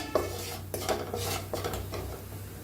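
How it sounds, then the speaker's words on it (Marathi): A spoon stirs oil, turmeric and red chili powder in a pan (kadhai), giving soft scraping with a few faint metallic clinks over a quiet background. "थोडंसं तेल ओतायचं हळद थोडीशी असं लाल तिखट हलवून"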